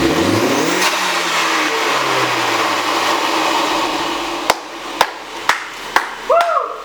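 A turbocharged car engine fitted with a JLT cold air intake revs in neutral, its pitch sweeping up and settling back, followed by a few sharp clicks or taps and a brief whoosh near the end.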